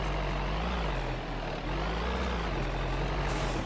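Santana 4x4 engine in the game Pure Rock Crawling, labouring hard through a rock passage, a steady loud droning growl that swells and dips slightly in pitch, with no talk.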